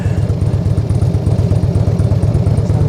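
Motorcycle engine held steady on the throttle during countersteering, a loud, close, even pulsing rumble with a rapid rhythmic beat throughout.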